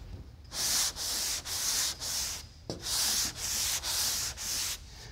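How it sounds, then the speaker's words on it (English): Steady rhythmic block sanding, long rasping strokes back and forth in a cross pattern across a Ford F100 truck hood panel, close up with no talking. "So I've sanded in an X pattern or a cross blocking pattern."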